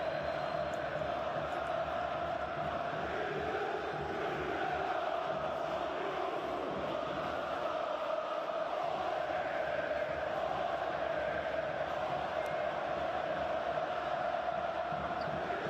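Basketball arena crowd at a Galatasaray versus Reyer Venezia game, a long sustained roar of cheering and shouting, dense and continuous throughout, with scattered whoops rising from the mass of voices.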